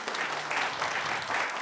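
Steady applause from a studio audience for pianist Petr Freund on a live Czech radio broadcast, a dense even patter of clapping at moderate volume with no voices over it.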